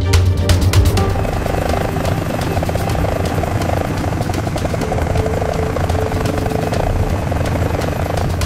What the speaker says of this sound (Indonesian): Pulangnya bukan naik mobil, tapi naik helikopter.